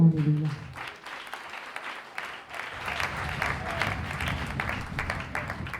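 A church congregation breaks into applause during a French-language sermon, a sustained round of clapping that starts after a few seconds, close and fairly loud, with a voice briefly at the beginning.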